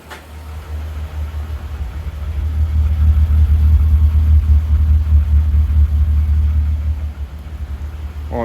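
VW Golf Mk2 with a 3.2 VR6 engine running under an open bonnet, a close, loud, steady low rumble with a slightly uneven idle throb and no talk over it.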